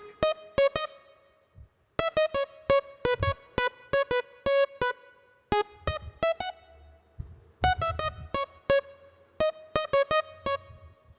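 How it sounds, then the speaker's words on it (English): Synth melody for a nostalgia plug and reggaeton beat, playing bright plucky staccato notes in quick rhythmic bursts separated by short pauses, with occasional low bass hits underneath, played solo and close. "I'm just going to play the individual melody."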